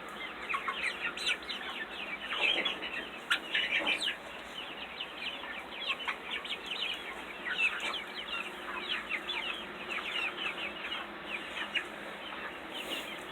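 Flock of young chickens clucking and cheeping while feeding on a treat, a dense, steady stream of overlapping calls close by with no talking.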